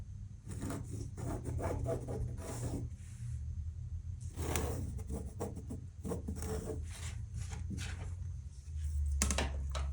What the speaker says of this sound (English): you will draw a line on the diagonal again